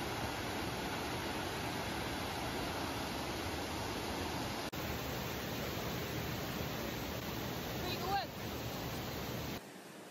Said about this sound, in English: So we're at the third waterfall now.